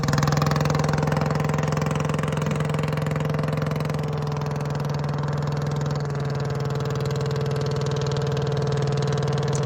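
A large motorboat engine drones steadily with a deep, even hum as the boat departs through floodwater in Candaba, holding constant for several seconds.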